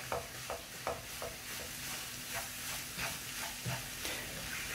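Mallow mixture with olive oil, salt, garlic, cumin, paprika and chili being stirred in a pan, a soft steady sizzle with faint regular scraping strokes, quiet and close with no talk.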